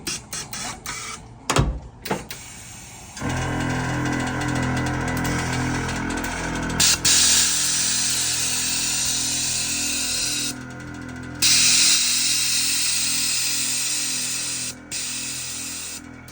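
An air compressor runs loud and close during a test on a truck assembly, starting after a few sharp knocks and then holding a steady, pulsing mechanical drone with a hissing top for the rest of the clip.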